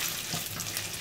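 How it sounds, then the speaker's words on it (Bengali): Ginger frying in a pan gives off a brief, steady hiss of sizzling oil, fairly quiet, with no voices. "একটু আদাটা ভেজে নিয়েছি"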